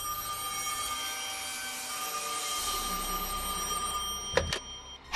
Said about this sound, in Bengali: এত রাতে আবার কে ফোন করলো?